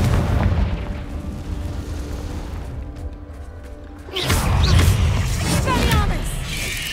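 Fiery spell blasts in the Hogwarts Legacy video game, a series of booming explosions and whooshes that swell louder midway, with a low rumble throughout.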